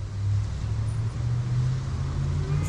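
A 1966 Chevy Impala's 400 small block V8, bored 30 over to a 406 with a stage 3 cam and running hot, idles in a steady, low, close rumble with a slight lope and no talk.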